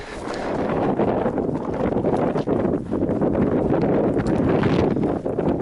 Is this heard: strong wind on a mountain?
yes